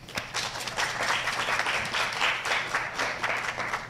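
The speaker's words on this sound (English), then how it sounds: "So please, a warm round of applause." Conference audience applause welcoming an Intel speaker: a steady, moderately loud wash of many hands clapping that holds evenly for several seconds in a hall.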